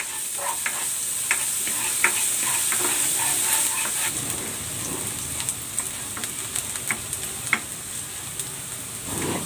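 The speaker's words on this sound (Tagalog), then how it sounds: "Igigisa ko na tong bawang." Garlic sautéing in hot cooking oil gives a steady, close sizzle with light stirring clicks and scrapes scattered throughout, and no talk over it.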